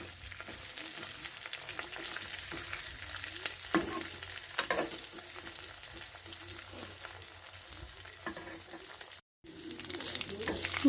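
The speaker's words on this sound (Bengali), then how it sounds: "আমার মশলাটা অনেকটা ভাজা ভাজা হয়ে গেছে" Spices frying in oil on medium heat for a homemade hair oil, a soft continuous sizzle with occasional stirring scrapes and clinks, quiet and close, with a brief dropout near the end.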